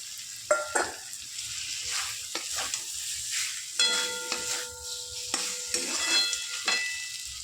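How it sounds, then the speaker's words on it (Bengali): Katla fish frying in a pan for doi katla, a close, steady sizzle broken by spatula scrapes and a few clinks of utensils, no voices. "এবার মাছটা দিয়ে দেবো।"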